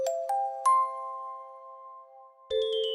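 A bright notification bell chimes three quick rising dings that ring out and decay, then a fresh higher chime strikes near the end, clean and alone with no voices.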